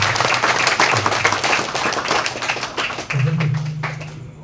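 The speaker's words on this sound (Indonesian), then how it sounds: "Kita tepuk tangan." Congregation at an Indonesian thanksgiving Mass clapping together, a dense patter of many hands running steadily throughout, with a voice and some murmuring over it near the end.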